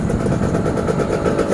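A motorcycle engine runs close and steady with a dense, buzzing drone and even throb throughout, no voices over it.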